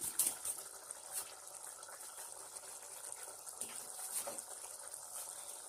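Egusi soup cooks in a pot, giving a faint bubbling, simmering sound with soft liquid splashes and occasional clinks, without speech.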